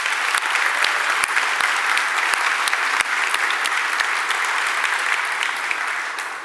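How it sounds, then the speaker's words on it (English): Audience applause fills the opening keynote hall at the Codegarden 2019 conference, a dense, steady wash of many hands clapping at full strength that holds evenly and tapers slightly at the end. "so please give them a big round of applause"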